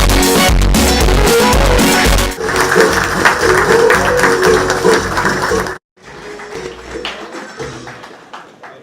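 Loud, dense applause from an award ceremony audience fills the space, continuing steadily, then briefly cuts out and resumes more quietly.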